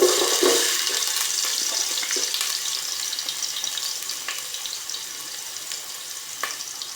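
Ginger dropped into a hot pan for squid adobo with string beans, a loud hiss that settles into a steady close sizzle, no talk heard.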